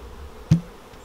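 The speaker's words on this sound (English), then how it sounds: "just brush a few bees off there." A soft hum of honey bees around a hive, with a single sharp knock in the middle.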